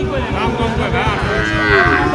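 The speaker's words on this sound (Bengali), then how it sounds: "সুন্দর একটি গরু" A Sahiwal bull lows at a livestock market in Ambari Haat, Dinajpur, giving a loud, sustained, close moo that fills the whole stretch with faint crowd voices behind.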